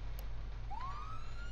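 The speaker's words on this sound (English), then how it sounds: "That's one, siren one." A police car siren from a game patrol begins with a single rising wail that sweeps upward and holds, faint over a steady low hum.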